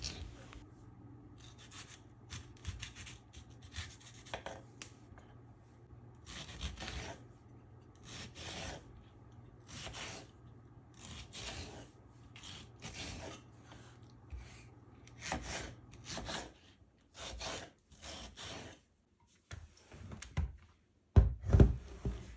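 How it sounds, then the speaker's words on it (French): Ripe tomatoes being cut into pieces with a knife on a board, a long run of short rasping slices and soft knocks in irregular bursts, close and fairly quiet, with a louder thump near the end. "Je retire leur pédoncule puis je les découpe simplement en morceaux."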